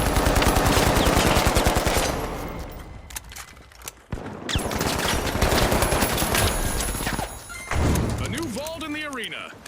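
Gunfire in the video game The Finals: rapid automatic bursts with dense rattling shots, a brief lull, then more firing, with a voice calling out near the end.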